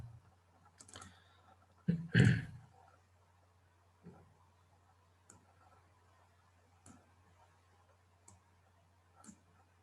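Sparse, faint clicks of computer keyboard keys being typed at a quiet desk, a louder cluster of taps early on, then isolated keystrokes spaced a second or two apart over a low steady hum.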